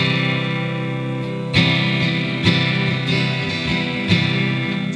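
Gentle strummed chords on an acoustic guitar playing a song, a steady down-and-up pattern with several clear accented strokes ringing out alone, close and fairly full.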